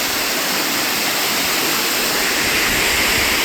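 Canyon waterfall roaring close by, a loud, steady broadband rush of falling water with no pauses and no voices.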